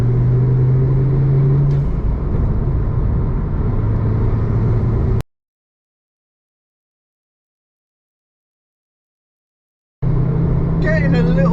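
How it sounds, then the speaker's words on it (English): A Ford Focus ST3's engine drones and rumbles steadily from inside the cabin, rising slightly under acceleration, then the sound cuts to total silence before resuming with a voice over the engine. "The noises are great, and that engine, it just wants to go."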